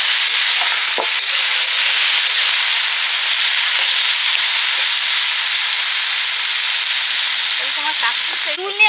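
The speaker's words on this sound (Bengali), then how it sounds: "আর আমার এদিকে এই যে আলু ভাজা হচ্ছে, আলুর সঙ্গে ওই গাজর বিনস বেড়েছিল দিয়ে দিয়েছি।" Potatoes fry with carrots and beans in a pan outdoors at a family picnic. A loud, steady hissing sizzle fills the whole span, with faint clinks and a brief voice near the end.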